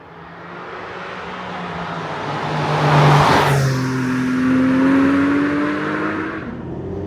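A Porsche 718 Spyder with PDK gearbox drives with the roof down, its engine note rising and falling through revs, loud and near with wind rush, no talking.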